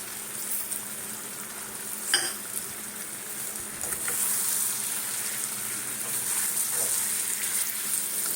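Sour-sweet mango pickle ingredients frying in a pan, a steady soft sizzle with faint stirring scrapes and brief clinks, close and alone without talk.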